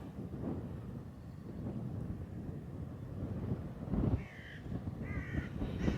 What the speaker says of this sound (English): you hear the birds, the wind is just blowing